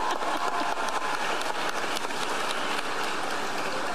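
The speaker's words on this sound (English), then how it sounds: "you may clap" An audience applauds during a Kamala Harris speech, a dense, even wash of many hands clapping that stays steady and fairly loud throughout.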